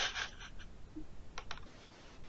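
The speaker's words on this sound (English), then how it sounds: "Ludwin is typing a message" Faint, scattered clicks of someone typing a message on a computer keyboard, sparse keystrokes in quiet room tone during an online call.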